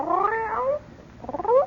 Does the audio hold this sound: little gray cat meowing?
yes